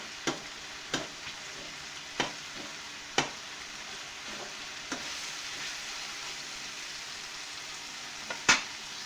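Green chilies with their seeds left in, sautéing in an oil-filled pan: a steady close sizzle with occasional sharp pops and spatula clicks against the pan, no voices.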